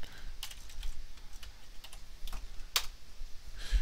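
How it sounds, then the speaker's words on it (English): Computer keyboard typing at a Windows administrator command prompt, entering a disk partition command: a few scattered, crisp key clicks spaced irregularly over a low steady background hum, close and moderately quiet, with no talking. "open up disk part by typing in disk part"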